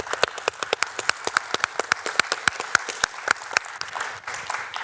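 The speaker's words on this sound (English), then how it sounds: "Can I give everyone a big round of applause?" A conference audience claps at the end of a session, a dense burst of many hands that starts strong and keeps going before slowly thinning out. It sounds close and fills the room, and nobody speaks over it.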